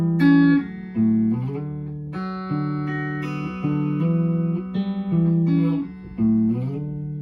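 Guitar phrase from a song played slowly and deliberately, a string of clear plucked notes and chords ringing one after another, close and alone with no talking.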